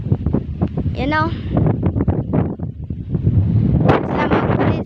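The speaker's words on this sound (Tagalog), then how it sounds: "grabe ang hangin talaga" Strong wind buffets the microphone in a loud, continuous rumble while someone talks over it.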